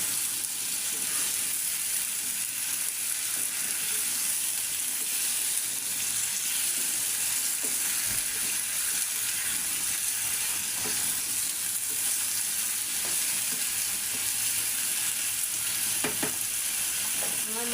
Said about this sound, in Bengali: একটু তেলের মধ্যে এটা ভাজে নিই